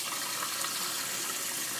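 Water pours steadily from a sink tap into the open cavity of a turkey propped against the side of the sink, a faint, even hiss of running water with no voices.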